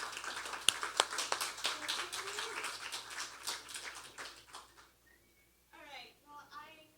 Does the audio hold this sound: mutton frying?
no